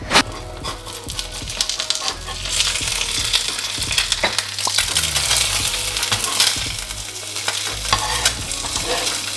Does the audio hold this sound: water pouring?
no